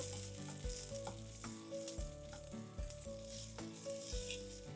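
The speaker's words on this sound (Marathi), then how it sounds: "कांदा मऊ झालाय, त्यात घालूया 1 कप तुरीचे दाणे. तूर परतून घेऊया." Fresh pigeon peas sauté with softened onion, a quiet steady sizzle with occasional stirring knocks, set against a sustained tonal background hum; no voices.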